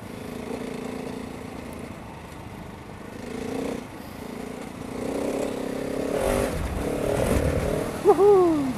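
A Husqvarna 701 motorcycle on a test ride, its engine droning steadily with rising and falling revs under heavy wind rush, plus a short whistle-like squeal near the end.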